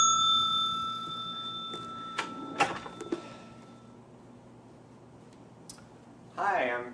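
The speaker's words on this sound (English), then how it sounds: "please ring bell for attendant." A bell for summoning an attendant gives a bright metallic ding and several sharp dings and clicks in quick succession, ringing out briefly, with muffled background sounds and a voice starting at the end.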